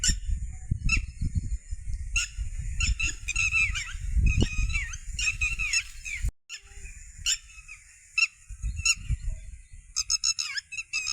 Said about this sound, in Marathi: टिटव्या वरटतात, टिटवी